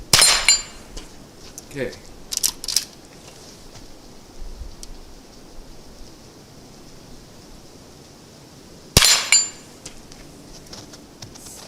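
Sharp, subdued cracks from CCI Quiet 22LR rounds fired in a Henry Frontier rifle outdoors in the cold: one at the very start, a couple of smaller clicks soon after, and another crisp shot near nine seconds, with a brief spoken word between them.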